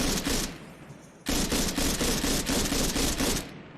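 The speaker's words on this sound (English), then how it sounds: "this has a 3-round burst fire, and if you go very rapid with the 3-round burst fire" A gun in the video game Arma 3 firing 3-round bursts in rapid succession: loud, close, clattering shots that pause briefly after the opening volley, then resume as a near-continuous stream of bursts before stopping.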